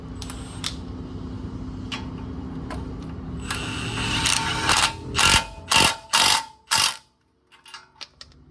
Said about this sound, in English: I'm gonna hit it with the impact gun, 17 mil